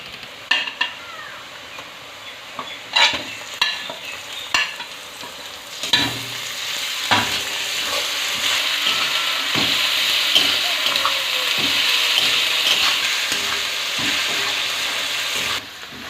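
Ginger and garlic paste frying with chopped onions in a pan for a jackfruit and chicken curry: a steady, close sizzle with occasional stirring scrapes and clinks, no talking.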